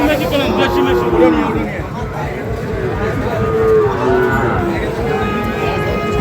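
Loud mooing of Sahiwal bulls and calves repeatedly amid a noisy cattle market crowd, with people talking and chattering close by throughout.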